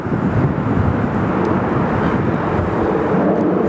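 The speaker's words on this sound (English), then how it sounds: "There's our Qantas 791 coming in from Alice Springs." A Qantas airliner on flight 791 arriving at Sydney Airport, heard as a steady, loud, broadband jet roar that holds evenly throughout with a low rumbling body and no talking.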